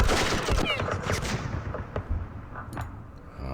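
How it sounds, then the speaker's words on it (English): Gunfire aimed at a sniper in a war video game comes as a dense, loud volley of shots at the start, then tails off into scattered fainter cracks. "I'm going to fire at the sniper."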